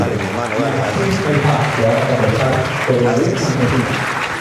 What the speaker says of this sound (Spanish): vamos a recibir con un fuerte aplauso a Ismael Haj